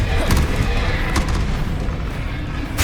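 An Incendio fire spell in Hogwarts Legacy goes off as a deep, loud boom, with a few sharp cracking hits spread through a sustained roaring rumble.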